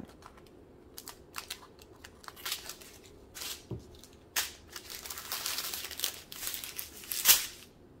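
Scissors snip open small plastic bags of AB diamond painting drills, with crisp cuts, crinkling plastic and light handling noises. The sounds are close and quiet, arriving in irregular bursts.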